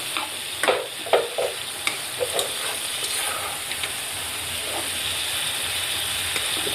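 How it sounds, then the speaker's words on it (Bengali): Food stirred in a covered pan while frying, a steady sizzle and hiss with several sharp scraping clacks from the utensil early on, then continuous frying alone. "নেড়ে দিব।"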